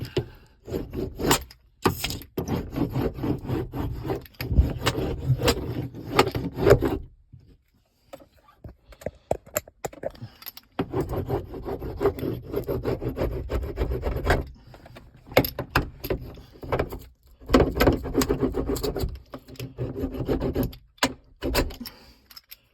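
A roller presses and rubs foam onto a Ford Taurus subwoofer wall, making a run of close scraping, rustling passes that stop for short pauses and then resume.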